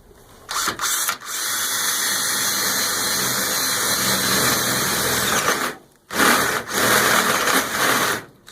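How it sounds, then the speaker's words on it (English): A unibit step drill bores through a workpiece in a steady, loud grinding whine that runs for several seconds, with short bursts at the start and a brief stop before drilling resumes near the end. "So what I do, I use a unibit."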